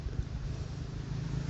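Outdoor wind blows steadily into the microphone during a Thai ritual of apology and blessing, making a constant low rumble and buffeting with a few stronger gusts and no voices.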